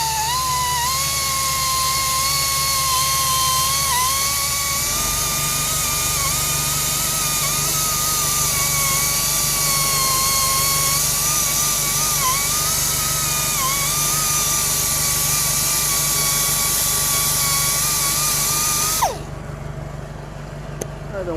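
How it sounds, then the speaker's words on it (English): A loud, steady high-pitched grinding whine from a power tool with a red medium conditioning disc grinding curb rash on a Hyundai Santa Fe wheel runs for about twenty seconds, then cuts off abruptly and winds down. "let me go ahead and grind these out"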